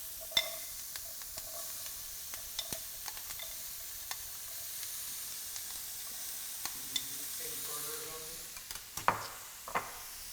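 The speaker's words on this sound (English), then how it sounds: "Now we're going to go ahead and add some veggies for caramelization" Vegetables, onions among them, sizzle in butter in a hot pan: a steady soft hiss dotted with small crackles and pops, plus a brief stretch of faint voice partway through.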